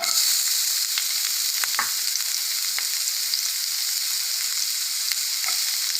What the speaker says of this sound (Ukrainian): У невеликій кількості жиру. Обжарю цибульку.